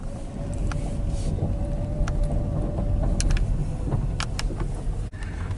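A car driving along a rural road near Hawthorne, Florida, heard from inside as a steady low engine and tire rumble with faint clicks and rattles throughout.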